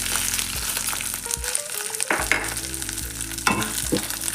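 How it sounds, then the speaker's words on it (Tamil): Chana dal and urad dal roasting in a hot pan for mint chutney, a dry rattling sizzle with repeated scraping stirs and some tonal clanks of utensils, close and fairly loud, no talking. "அதில் வந்து கடலைப்பருப்பு ரோஸ்ட் பண்ணிக்கலாம். உளுந்து பருப்பு ஆட் பண்ணிக்கணும்."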